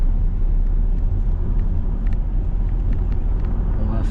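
Car engine rumbling low and steady as the learner driver gently accelerates during a braking-practice driving lesson, heard from inside the cabin.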